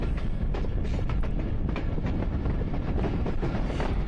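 Passenger train running on rails along a curving route between Taxila and Havelian, a steady loud rumble with faint rhythmic clatter throughout, no voices.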